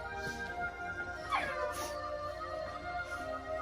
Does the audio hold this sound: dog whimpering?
yes